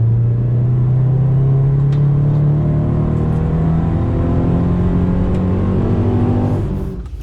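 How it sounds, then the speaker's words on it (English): A naturally aspirated car engine at a track day, a loud sustained drone with a rising and falling tone, held close and steady throughout before easing off at the end. "you can hear the amazing symphony of the naturally aspirated engine"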